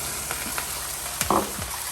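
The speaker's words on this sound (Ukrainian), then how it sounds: "З однієї сторони підсмажили, перевертаємо на іншу сторону." Chicken pieces frying in a pan for a Caesar salad, a steady close sizzle with a brief louder burst of spitting as the meat is turned.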